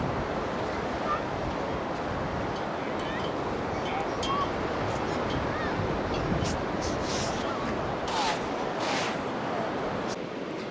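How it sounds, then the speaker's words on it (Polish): Sea waves roll onto a sandy Baltic beach at Stegna, a steady soft wash of surf with wind noise, continuous and moderately faint, with no talk. "Bardzo uwielbiam przyjeżdżać nad morze, słuchać szumu fal"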